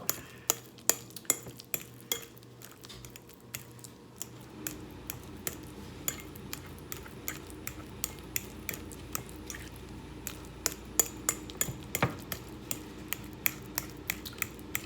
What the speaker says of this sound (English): Mash it really well